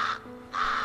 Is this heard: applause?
no